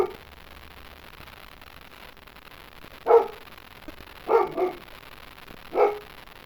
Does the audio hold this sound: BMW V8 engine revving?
no